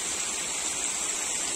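A mountain river flows below the rocky slopes above Uchan-Su, swollen with meltwater from thawing snow, producing a steady, broadband rushing wash that stays constant and fairly distant throughout.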